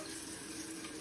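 Steady running water from a shower spraying over a pet parrot, a continuous close hiss throughout with no talking.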